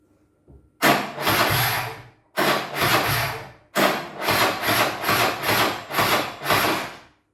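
A Piaggio 125/150 scooter's starter motor, on a weak original 4A 50cc battery, cranks in three labored bursts, whirring and straining rhythmically without catching, close and fairly loud, separated by brief pauses.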